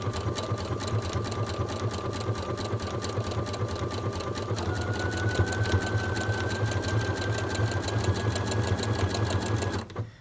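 A sewing machine runs steadily while stitching a jersey neckband onto a top, a continuous close mechanical whir with a fast regular needle rhythm that rises slightly in pitch midway and cuts off at the end.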